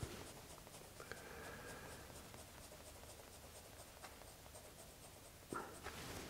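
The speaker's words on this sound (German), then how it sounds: "Zeichnen die noch hier ein bisschen dunkler im Kern. Einfach nochmal rüber gehen." Pencil shading on paper, steady soft scratchy strokes going back and forth close by, quiet and continuous with no talking.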